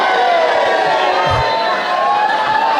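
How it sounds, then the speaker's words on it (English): A live pub-comedy podcast audience cheers and shouts together, a loud continuous crowd roar with whoops held at steady intensity from start to finish. "Give me cheer."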